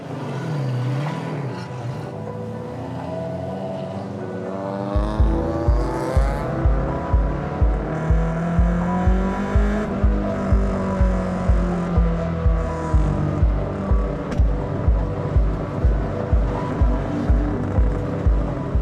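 Race car pulling out of pit lane at a GLTC racetrack, engine note climbing through rising harmonics with a steady pulsing rhythm, loud and close, as if heard on board.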